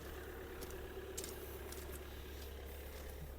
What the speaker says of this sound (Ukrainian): двигун працює